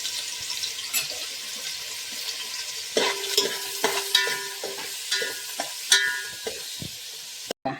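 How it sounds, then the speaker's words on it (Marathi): Onion frying in hot oil for a mutton gravy, with a steady soft sizzle under intermittent sharp clinks and scrapes of stirring, a few louder knocks in the middle, and a brief clatter at the very end. "हे तेल गरम झालेलं आहे. आता हा कांदा टाकणार."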